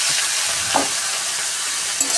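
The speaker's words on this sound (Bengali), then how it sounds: "বেশি ভাজা করবো না, এর মধ্যেই দিয়ে দেবো আলুটা।" Diced potatoes for aloo chorchori fry in a pan with a steady, even sizzle, close and continuous, with a couple of faint stirring clicks.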